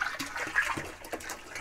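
Water runs into a 55-gallon plastic biogas digester barrel, a steady, splashy rushing pour with small gurgling bursts, close and fairly loud, with no talking.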